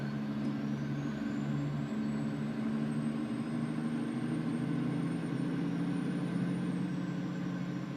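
A truck engine drones in a steady low hum with strong tonal harmonics as the driver prepares to downshift, with a faint high whine rising and then settling over the constant rumble and no speech.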